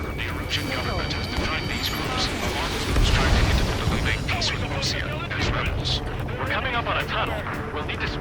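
Missile launches and explosions in the video game Ace Combat 7, a dense continuous roar of jet engine, booming blasts and sharp impacts, with a deep thud partway through.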